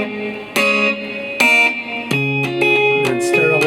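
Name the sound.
slap flick technique on guitar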